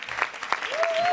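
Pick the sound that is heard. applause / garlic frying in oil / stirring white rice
applause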